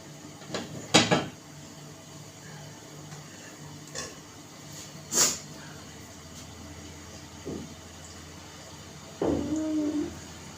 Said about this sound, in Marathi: आता मी जेव्हा थोडंसं झाकण ठेवते